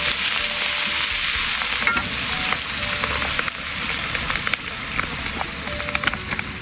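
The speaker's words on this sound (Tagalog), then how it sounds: "Ilagay na natin ang ating gata." Coconut milk poured over pork in a hot pan for a spicy Bicol Express, giving a steady loud sizzle with scraping stir strokes throughout, no voices.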